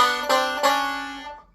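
A bright plucked bluegrass banjo plays a short rising kickoff lick of three quick notes, then the last note rings out and fades.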